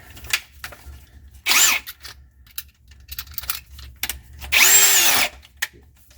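A power screwdriver drives screws while a garbage disposal is installed under a sink, heard as two loud, close whirring bursts with clicks and rattles of parts between them.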